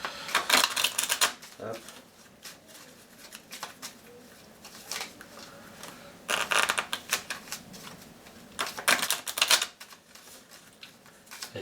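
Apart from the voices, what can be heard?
shuffling cards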